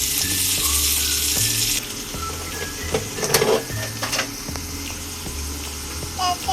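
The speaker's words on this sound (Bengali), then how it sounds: "পেঁয়াজটা আমি লাল লাল করে ভেজে নিব" Chopped onions fry in oil with a loud, continuous sizzle close by, while a spoon scrapes and clinks against the pan at intervals and a low mechanical hum runs underneath.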